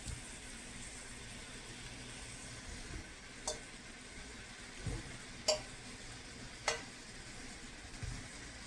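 Spicy corn being stirred in a pan over low heat, a faint steady sizzle with a few soft scraping and tapping clicks of the spoon against the pan, no talking.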